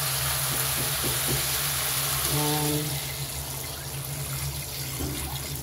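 Water is poured into a cooking pot of simmering meat seasoned with a chicken cube, a steady splashing rush over sizzling, with a tapping of utensils early on and someone speaking briefly.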